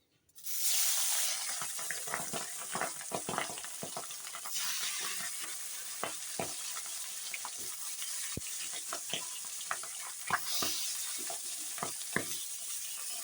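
Rohu fish heads fry in hot oil with a dense, steady sizzle and frequent sharp crackles and pops throughout, close and loud, with no talking.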